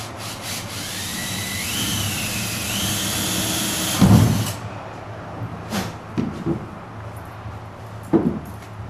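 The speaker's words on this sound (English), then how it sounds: "I'm opening it up to an 1/8 inch pilot hole." A power drill bores a 1/8 inch pilot hole into a pickup truck bed, its motor whining steadily for about four seconds before stopping with a thump, followed by a few scattered clunks and taps.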